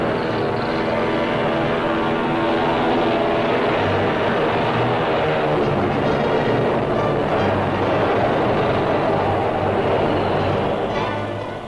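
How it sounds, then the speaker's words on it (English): Aircraft droning in flight during the WWII Coral Sea and Midway battles, a loud, steady, continuous propeller-engine roar that persists throughout with no voices. "While airplanes drone their way into the skies."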